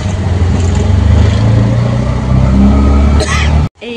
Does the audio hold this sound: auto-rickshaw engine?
yes